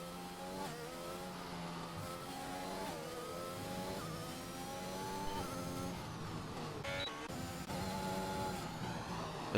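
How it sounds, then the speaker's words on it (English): Formula 1 race car from a video game, heard onboard on a qualifying lap at Russia: a steady, high engine whine rising and falling through gear changes, loud and continuous for the whole stretch. "As now Sim is on his lap, so we'll ride on board with Sim"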